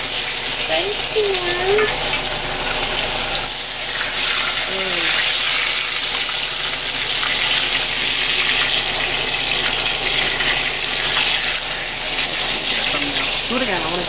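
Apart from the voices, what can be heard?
ribeye steak sizzling while being basted in pan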